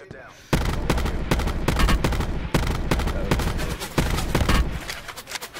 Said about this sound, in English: And I'm getting shot from another way